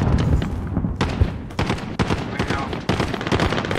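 Heavy gunfire in a video game firefight, rapid overlapping shots and bursts packed densely and loud throughout, with a few short pauses between volleys.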